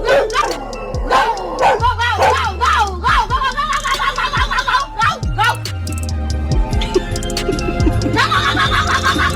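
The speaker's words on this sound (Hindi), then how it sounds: "घर के अंदर बंधा ये डॉग इन्हें देखकर बड़े ही जोरों से भौंकने लगता है" A dog tied up inside a house barks loudly and repeatedly in sharp bursts mixed with yelping whines, while voices talk over it throughout.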